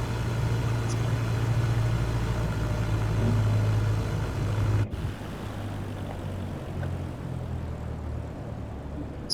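A simulated Cessna 172 Skyhawk propeller engine in Microsoft Flight Simulator 2024 drones steadily, then drops to a lower, quieter hum midway as power is reduced, with no talk.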